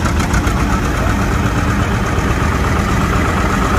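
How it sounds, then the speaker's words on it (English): Antique 830 diesel tractor engine at a tractor pull, a loud, close, continuous knocking diesel rumble with a steady rhythmic throb and no voices over it. "that's an 830 diesel."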